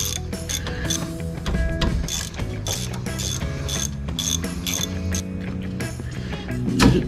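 A ratchet wrench clicks steadily and loudly while loosening the 3/8 headed bolts holding a brake drum on an 1986–1987 Dodge Dakota, a rapid rhythmic pawl chatter running continuously up close with no talking.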